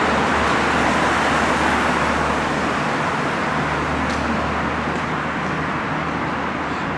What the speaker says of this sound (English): listen to the cars as they go past